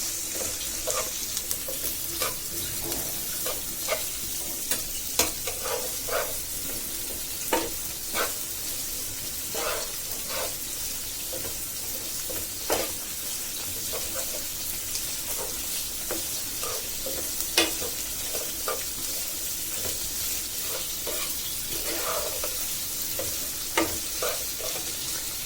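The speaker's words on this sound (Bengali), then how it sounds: "কই মাছ তেলে দেওয়ার জন্য আমি এদিকে পেঁয়াজ আর কাঁচামরিচ ভালোভাবে তেলে ভেজে নিচ্ছি।" Onions and green chillies frying in oil in a pan, a soft continuous sizzle with scattered light clicks and stirring scrapes, fairly quiet throughout.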